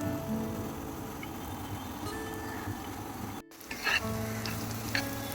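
Onions frying in oil with spices, a steady bright sizzle close by with a faint hum beneath, a brief cut midway and a few clinks of stirring afterward, no voices.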